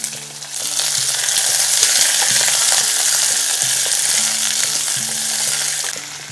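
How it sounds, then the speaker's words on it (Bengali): Potato, carrot, beans and capsicum frying together in a single pot, a loud continuous sizzle broken by repeated clanks and scrapes of stirring, close by, with no talking. "সমস্ত সবজিগুলোকে হালকা ভাজা ভাজা করে নিয়েছি।"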